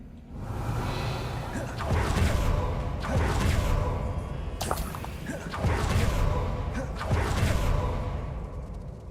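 Casting the Revelio reveal spell in Hogwarts Legacy sends out repeated whooshing pulses, several broad swells of airy sound rising and fading in a loose rhythm over a low continuous rumble.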